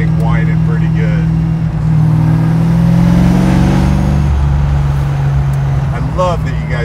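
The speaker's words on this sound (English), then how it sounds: "I love that you can really hear the supercharger. I mean, I haven't even dug into it, and you can hear that thing whining pretty good." Magnuson supercharger whining on a Hellcat-swapped, roughly 1,000-horsepower Dodge Dart, a steady high whine over a loud engine drone that swells briefly mid-clip, close by, with voices talking over it.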